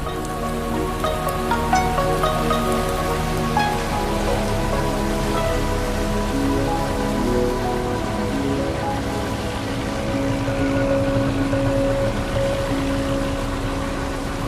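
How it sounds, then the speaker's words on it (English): Steady rain from a brief thunderstorm in the Mekong Delta, Vietnam, patters on surfaces close by, a dense continuous hiss with scattered drops, while a low tonal hum lingers beneath. "The rain provides a welcome, though brief, respite from the hot sun"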